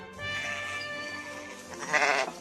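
Sheep grazing beneath wind turbines in the Dutch countryside let out a couple of clear, wavering bleats, close and distinct against a quiet outdoor background, the second call rising louder near the end.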